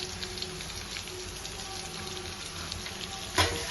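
Masala with carrot and potato pieces frying in a pan for egg biryani gives a steady moderate sizzle with soft stirring, and a sharper clank near the end.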